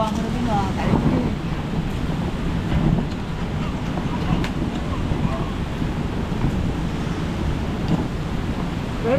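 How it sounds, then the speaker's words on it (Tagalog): Strong typhoon wind roars in a steady, broadband rush with gusting swells, buffeting the microphone throughout. "Alakas ng hangin"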